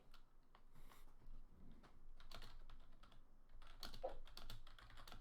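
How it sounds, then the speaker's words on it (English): Keyboard typing during a tabletop role-playing game session, a run of quick soft clicks and taps at moderate level, fairly close, with no talking over it. "All right, Nick, I'm typing you a private message"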